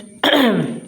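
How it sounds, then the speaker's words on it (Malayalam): A single close, harsh cough lasting under a second, alone with no talking. "ഇടയ്ക്ക് എനിക്ക് ചുമ വന്നു"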